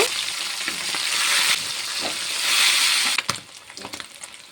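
Parshe fish fries in oil in a covered pan with a dense, loud, continuous sizzle; scraping and stirring knocks come near the end as the sizzle fades.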